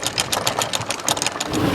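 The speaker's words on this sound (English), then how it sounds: "Oh, let's start the motor, eh?" A sailboat's motor off Langkawi sputters and chugs in a fast, rough rhythm as it starts, loud and close with no talk.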